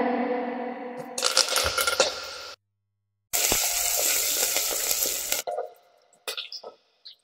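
Curry leaves dropped into hot oil for a Marathi brinjal rice, a loud crackling sizzle that bursts in, cuts out briefly, returns strongly, then fades to scattered pops.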